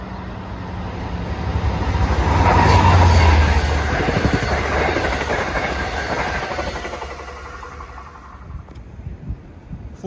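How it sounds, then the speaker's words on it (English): An LIRR train from Penn Station to Ronkonkoma passes through Forest Hills, a loud, close rumble with rapid clickety-clack of wheels that builds, peaks, then fades as it recedes. "The first train coming on 4 is 1960 from Penn Station to Ronkonkoma."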